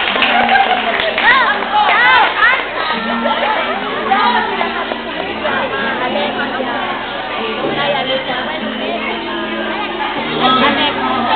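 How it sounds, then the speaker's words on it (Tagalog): A lively crowd at a child's birthday party chatters and claps, with scattered shouts and cheers rising over steady applause throughout. "Ang lakas ng palakpak ng mga taga-Tanubak Milano, walang mali."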